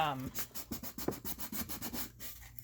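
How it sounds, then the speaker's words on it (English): Sandpaper works along the edge of an epoxy-coated glitter tumbler, making quiet, rhythmic rubbing strokes that repeat steadily. "I'm just trying to run the sandpaper into this edge here, and I'll feel it as I go."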